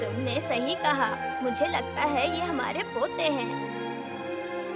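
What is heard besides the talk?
No everyday noise stands out behind the speech.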